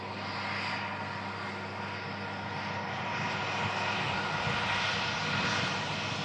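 An airliner takes off in a steady, broad engine roar that holds at a constant distance and swells slightly toward the end.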